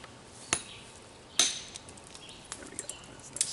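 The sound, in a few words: flint knapping obsidian, striking off a flake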